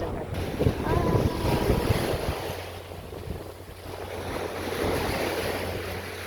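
Sea surf rolls in at a beach in Coron, Palawan, a loud washing roar mixed with heavy wind buffeting the microphone and a low motor hum that comes in partway through.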